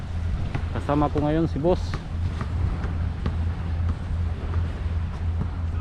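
Strong wind buffets the microphone on a night motorcycle ride, a steady roar with a low engine hum beneath it while someone talks briefly.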